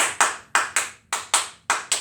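Sharp hand claps in a pre-primary tap dance class, six crisp claps landing in a steady rhythm, close and clear with nothing else heard.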